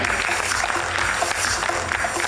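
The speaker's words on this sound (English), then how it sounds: "Can you please give one big round of applause?" Applause from a summit audience at an urban co-operative banking panel discussion, a steady dense wash of clapping that fills the room for a couple of seconds without breaks.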